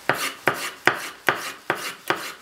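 A knife cutting peppers in half on a board, six evenly spaced sharp chops, close and crisp, with no talking.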